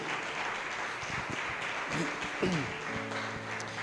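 A church congregation applauds during a sermon, a dense, steady wash of many hands clapping from across a large room, with faint voices mixed in.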